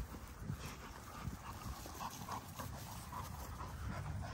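Puppies whimper and pant close by, with soft yips and breathy pants scattered through a steady, fairly quiet background.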